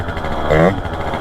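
A Honda Dio scooter engine with tuning issues revs up briefly with more throttle, a close buzzing idle rising to a short higher-pitched swell and falling back.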